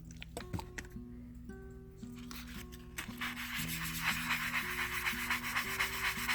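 Polymer clay cabochons are sanded by hand in a circular motion, giving a continuous close, rhythmic scratchy rubbing that grows louder and denser, over a steady tonal background hum.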